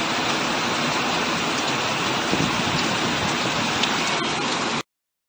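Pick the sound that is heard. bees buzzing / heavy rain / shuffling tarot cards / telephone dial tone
heavy rain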